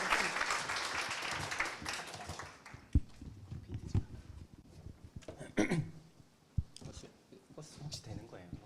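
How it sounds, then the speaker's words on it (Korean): Applause from a conference audience at a technical talk starts fairly loud and fades over the first few seconds, followed by scattered thumps, handling noise and murmured talk. "다들 박수 한번 부탁드립니다."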